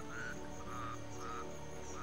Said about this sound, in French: Vous avez vu, il y a des grenouilles